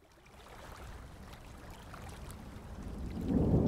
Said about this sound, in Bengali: এমন প্রকাণ্ড নদীর মাঝে শুধু এখন এই পানির কলকল আওয়াজ